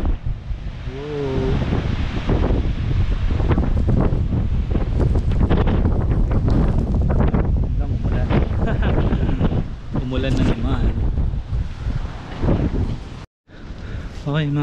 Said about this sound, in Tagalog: laki oh, lalakas ng alon.